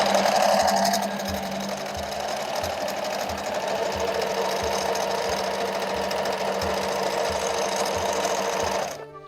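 A sewing machine set up for free-motion quilting runs its needle steadily at a fairly quick speed, a close, even mechanical chatter with a regular pulsing rhythm until it stops at the end.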